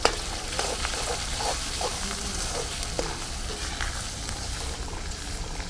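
A spoon stirs and mixes ground spices such as kitchen king, meat and rajma masala in a pan, giving a continuous close scraping and rustling over a soft sizzle, with no voices.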